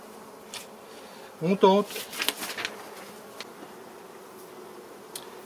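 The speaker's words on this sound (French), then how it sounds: "Je vais reculer les abeilles là." Honeybees buzzing around an opened beehive, a soft continuous hum in the background with a brief spoken phrase and some handling noises.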